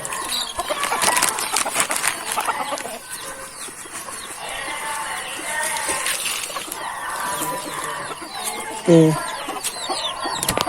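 A native rooster and hens cluck close by in a backyard coop, with continuous busy clucking, short calls and a brief louder squawk near the end.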